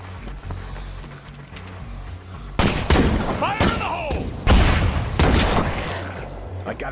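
Gunfire in the video game State of Decay 2: sharp bursts of shots break out midway and again near the end, loud and close over a low rumbling background, with a voice talking in between.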